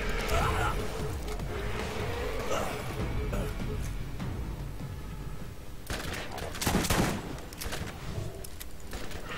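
Rapid gunfire in the video game Borderlands, a dense, continuous barrage with scattered louder bursts, mixed with game effects and some speech underneath.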